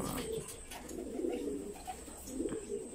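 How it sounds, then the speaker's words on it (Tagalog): Racing pigeons at a loft coo softly in low, murmuring calls over faint outdoor background noise, with no talking. "Nandito yung mga ibon natin."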